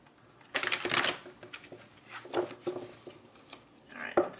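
Tarot cards shuffled by hand during a love reading, heard as bursts of riffling and soft slaps in several separate flurries at close range, with a quieter gap between them.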